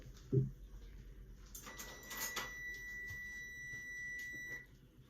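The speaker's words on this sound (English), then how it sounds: "I always forget to turn the timer thing off." A kitchen timer beeps a steady, thin high tone for several seconds while a ketogenic casserole rests after baking. A thud comes first, and faint kitchen noise sits underneath.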